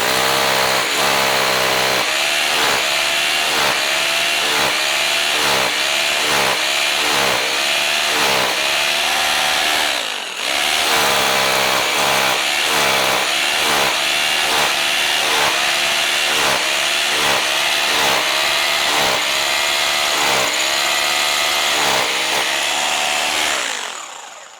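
A Braxter BT226B-826 rotary hammer bores into a concrete wall with a loud, harsh, steadily pulsing grind that runs near and alone for about twenty-four seconds, broken by one brief pause midway.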